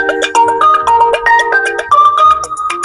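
A mobile phone ringtone plays a loud, bright melody of quick repeated notes and chimes with a steady beat, with no talking.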